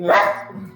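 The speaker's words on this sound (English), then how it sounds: "sorry, that's my dog." A dog gives a single close, loud bark that trails off into a short whimpering tail, heard alone with no talk.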